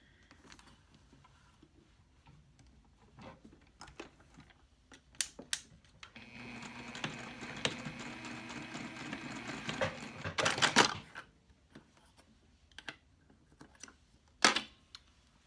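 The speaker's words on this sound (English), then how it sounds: "I'm going to start sewing up here where these 2 edges meet and sew down" A home sewing machine runs for about four seconds while stitching the edges of a reusable cloth napkin, a steady whirring hum between scattered handling clicks and a short backstitch burst.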